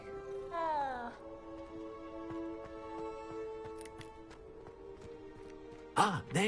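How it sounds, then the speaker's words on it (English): A cat meowing in the video game Hogwarts Legacy, a rising then falling drawn-out meow near the start and a sharper, louder meow at the end, with long tonal game music between. "Oh, it's a kitty."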